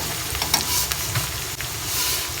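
Cinnamon pieces sizzling in hot oil with lightly browned onions while cooking a chicken roast korma, a steady crackling sizzle with a few sharper pops.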